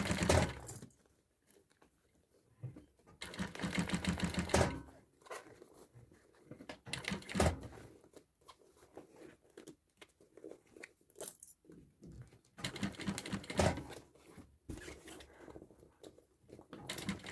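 A sewing machine stitches a fabric bag in several bursts of rapid, rattling runs separated by pauses, with quieter handling sounds between stitching passes; nearby and fairly loud.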